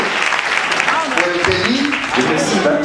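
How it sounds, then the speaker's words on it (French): Applause fills a church retreat gathering in Pointe-Noire, with a dense, loud wash of clapping under voices and cheering from the congregation. "Applaudissons."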